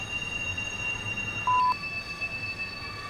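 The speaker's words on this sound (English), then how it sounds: "Good to know the train's here." A train on rails gives a steady low rumble with a sustained high squeal of wheels on track, plus a brief beep in the middle, heard alone at moderate distance.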